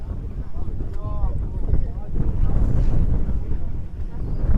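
Strong wind gusts across a hilltop at Bahubali Hills in Udaipur, buffeting the microphone with a loud, continuous, surging roar that rises toward the end, with no clear speech.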